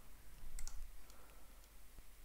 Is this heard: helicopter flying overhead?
no